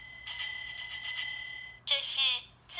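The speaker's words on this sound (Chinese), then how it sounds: "这是自行车铃铛的声音。" A bicycle bell from a children's sound book rings in a quick series of bright dings, then a second, brighter burst of ringing follows, fairly faint and with no talk over it.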